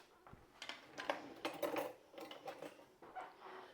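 A knife and cutlery clatter and scrape against dishes in a home kitchen while vegan garlic bread is served, with brief irregular clinks and rattles close by and no talking.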